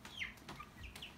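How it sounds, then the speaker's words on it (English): A rooster in a small tub gives a few soft clucks and chirpy calls, close but fairly quiet, with no talking during the sounds. "Reagan and Ivy, do you want to come up and pet the rooster"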